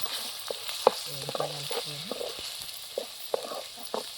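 A spoon stirs turmeric through a sizzling fish curry base in a village kitchen, giving soft scraping strokes and scattered clicks over a steady, faint frying hiss.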